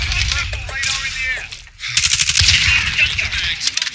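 Rapid automatic 5.56 gunfire in Call of Duty, loud, dense bursts over about two seconds, a brief pause, then another sustained stream of shots.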